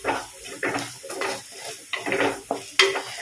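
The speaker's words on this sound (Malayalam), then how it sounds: "ആ പൊടിയുടെ പച്ചച്ചുവ മാറുന്നത് വരെ നന്നായിട്ട് മിക്സ് ചെയ്ത് കൊടുക്കാം" A spoon scrapes and stirs fish masala roast in a hot pan in repeated sweeping strokes, with steady sizzling under the close, clattering metal-on-pan scrapes.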